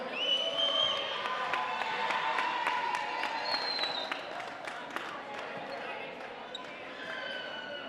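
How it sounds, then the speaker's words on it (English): At a boys' JV high school basketball championship, the gym crowd applauds the runner-up team, Leman Prep, with scattered clapping and cheers under a hall announcer's voice. Sharp ball bounces ring out throughout. "Let's give a round of applause for Leman Prep."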